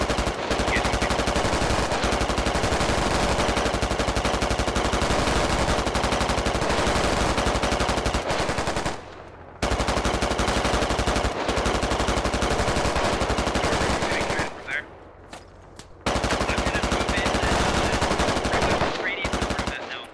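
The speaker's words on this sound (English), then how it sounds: "It's obvious that the BTR doesn't have a real good fix on what's they're actually shooting at" The coaxial machine gun of a BTR in the video game Squad fires long sustained bursts, loud and continuous, with a few short pauses between strings of rapid shots.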